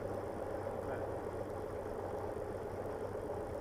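A small aircraft engine runs steadily while taxiing, a continuous low droning idle that stays even and unbroken throughout, with no voices present.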